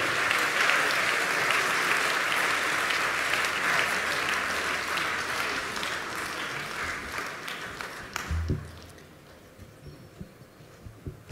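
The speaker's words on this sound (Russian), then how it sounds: "Прошу приветствовать аплодисментами." A concert audience applauds a family of performers in a hall, sustained loud clapping that fades after about eight seconds, leaving scattered claps and low noise.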